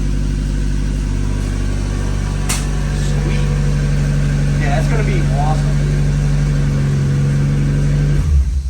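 A car that had been sitting unused runs after a jump start from a portable jump pack, its engine loud and steady at a rough idle close by, with a person talking over it before it cuts off.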